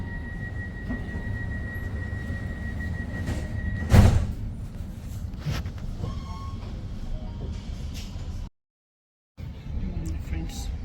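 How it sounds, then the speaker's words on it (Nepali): A Sydney light rail tram runs along with a steady low rumble and hum, a sharp clunk partway through, and a brief drop to silence before the rolling noise returns, heard from inside the car. "आज लाइट रेलमा गइरहेको छौँ"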